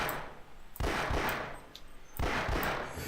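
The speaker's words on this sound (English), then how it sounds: "Maybe it does feel like that pistol fires slower." Pistol shots in the video game Half-Life, a few sharp, fairly spaced blasts with ringing decay, moderately loud and heard alone.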